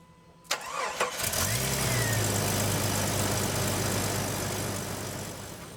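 A Jeep Grand Cherokee ZJ cranks with a couple of sharp starter bursts, then catches and settles into a steady, close, loud idle that holds to the end, with no talking.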